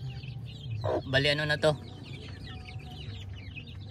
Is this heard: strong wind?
no